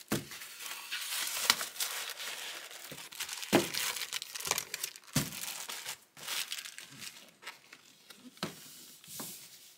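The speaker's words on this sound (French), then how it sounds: "on met tout ça dans des petites enveloppes rigides" Items being packed into small rigid envelopes give off close, faint crinkling and rustling of paper and packaging, with irregular crumples and soft taps throughout and no speech.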